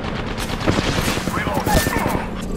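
Rapid automatic gunfire in the Apex Legends battle royale game, dense overlapping bursts of shots at steady loud level with game sound effects and a voice partly underneath.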